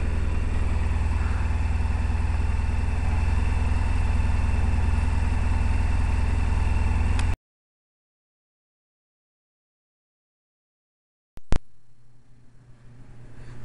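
A Silverwing engine idles with a steady, loud, even drone for about seven seconds, then cuts off abruptly into silence before a sharp click and a quieter, rough running noise.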